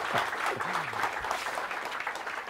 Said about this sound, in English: Let's give one more applause for Matt here.